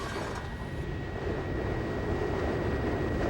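Steady, loud drone of a small airplane cruising at 3,600 metres ahead of a skydiving jump, a constant broadband engine and wind roar with a faint whine held throughout, no voices.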